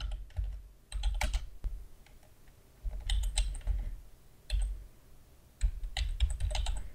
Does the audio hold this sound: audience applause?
no